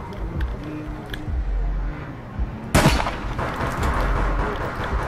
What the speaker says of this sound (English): Grab that grenade, son.